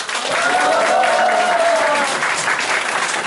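Audience applause at a campaign office opening, a dense burst of clapping from a crowd that fills the whole moment loudly before easing slightly toward the end.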